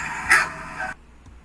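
A dog on a farm gives a single short bark near the start, clear and fairly close, followed by a brief fading tail and then near silence.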